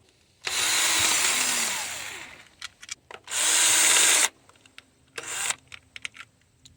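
Power tool bursts while removing 10mm bolts and nuts from the top of a Toyota Camry 2.4L engine: two long whirring runs and a shorter one, separated by quiet clicks and handling noises nearby.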